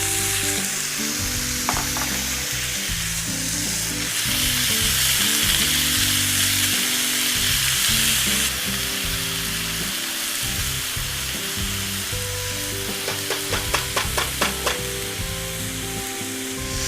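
Fresh vegetables for a quinoa pilaf sizzle loudly in a hot pan, a steady crackling fry with scraping stir strokes and a few sharp clicks of utensil against the pan toward the end.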